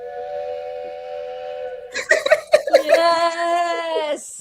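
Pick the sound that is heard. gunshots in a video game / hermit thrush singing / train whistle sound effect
train whistle sound effect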